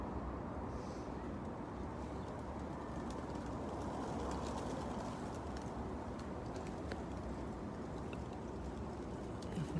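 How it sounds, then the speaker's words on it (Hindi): A flock of pigeons gathers at Masjid Ghamama in the early morning, with soft distant cooing and fluttering set in a steady, dense wash of outdoor ambience, faint throughout and without clear speech. "देखें कितने कबूतर हैं।"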